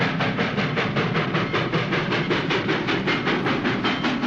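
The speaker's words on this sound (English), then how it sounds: "And a chugging train." A steam train chugs steadily in a fast, even rhythm of repeated puffs with a hissing wash over a low rumble, loud and close throughout.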